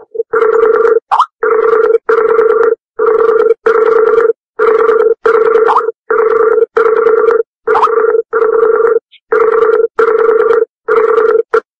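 A telephone ringing repeatedly in short, evenly spaced loud double-tone bursts with brief silences between them, harsh and somewhat distorted, with no voices.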